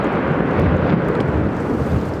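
Thunder rolls overhead right after a nearby lightning strike during a stormy outdoor survival camp in the Canadian wilderness, a steady deep rumble with wind buffeting the microphone, heard alone without talk.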